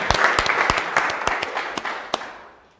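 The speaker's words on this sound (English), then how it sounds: "Give yourself a big round of applause, folks." A small audience at a Scotland technology meetup gives a short burst of applause, sharp separate claps over a softer bed of clapping that fades out toward the end.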